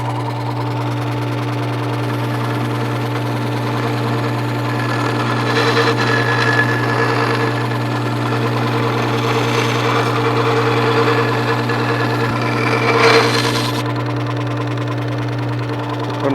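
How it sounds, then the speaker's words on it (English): A Work Sharp 3000 sharpener with its wheel spinning while a blade is sharpened, giving a steady low motor hum throughout, with brief brighter grinding swells in the middle and near the end. "I will turn this on, the wheel will spin"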